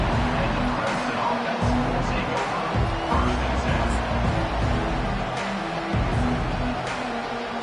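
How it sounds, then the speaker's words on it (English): A large stadium crowd in the video game NCAA 25, Clemson vs Alabama, roars in a continuous, dense wash of noise, swelling slightly at moments, with no clear speech on top. "Listen to the crowd energy here in the early going."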